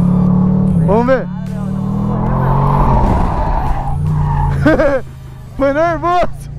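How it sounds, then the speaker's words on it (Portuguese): A Chevrolet Camaro convertible slides fully sideways on a race track, tires squealing in long rising-and-falling howls over a loud engine roar, with excited voices shouting over it near the end. "O carro vai inteiro de lado."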